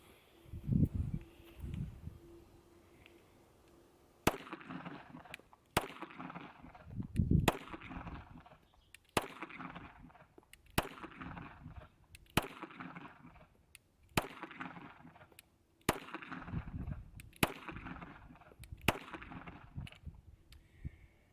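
A SCCY CPX-2 pistol fitted with a new slide, barrel and guide rod fires about a dozen sharp, fairly evenly spaced gunshots outdoors, each one loud and followed by a brief echo.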